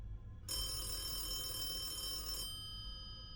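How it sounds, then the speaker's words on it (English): A telephone rings in one continuous bright electronic trill lasting about two seconds, clear and alone over a low background hum. "and the phone rings again."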